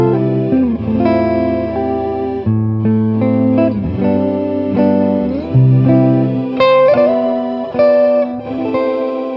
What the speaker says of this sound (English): Let's see how it sounds if I combine the guitar with the organ sound.